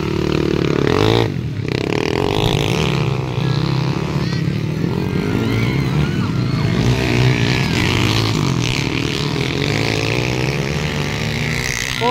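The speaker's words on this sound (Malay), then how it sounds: "Kusog kay motor ni Jewart." A racing motorcycle engine drones and revs steadily at a race, loud and sustained with a rough mechanical tone, faint voices and crowd noise blending underneath.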